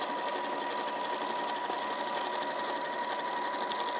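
Sewing machine running around quilted tote bag panels, a continuous even whir with a steady hum and fine rapid stitching texture, close and uninterrupted.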